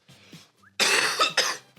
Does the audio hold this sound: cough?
yes